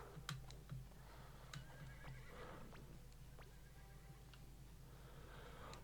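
A horse in SpongeBob SquarePants The Cosmic Shake gives a couple of sharp neighs with a few clip-clop hoofbeats, over a steady hum of game background sound, with no talking.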